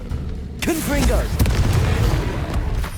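A loud, deep booming blast from the Confringo spell in Hogwarts Legacy rolls out and lingers as a rumbling explosion, accompanied by a brief shouted voice and other effects.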